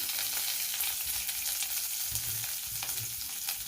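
Curry leaves and crushed garlic frying in a pan give off a steady, dense sizzle and crackle, with a few soft stirring knocks, and no voices.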